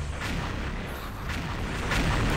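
Grenades bursting in the shooter game XSHOT, a few broad booms spaced about a second apart against a dense, steady bed of game noise.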